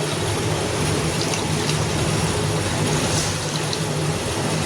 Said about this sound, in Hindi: इसके बाद में डाल देंगे हम इसमें पानी